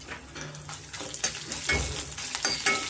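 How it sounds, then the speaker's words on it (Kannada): Urad dal, asafoetida and green chillies fry in a pan for temple-style puliyogare, giving a steady close sizzle with soft spoon stirring and faint scrapes against the metal. "ಸ್ವಲ್ಪ ಫ್ರೈ ಮಾಡ್ಕೊಬೇಕಾಗತ್ತೆ."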